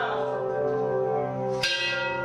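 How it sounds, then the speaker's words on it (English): A single bell rings with a sustained, ringing tone, then a sharp fresh strike near the end that keeps on resonating, with no talk over it. "I'm ringing the bell"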